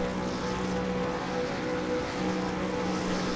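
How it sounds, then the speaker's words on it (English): V8 Supercar engines idling and building revs on the grid at a Road America race start, a dense sustained engine roar with steady low hum, no talk. "The revs will start to build here."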